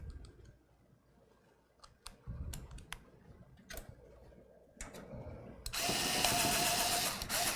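A powered screwdriver drives a screw on a PC build, with scattered clicks and taps before a sustained whirring burst of the driver near the end, close and fairly loud.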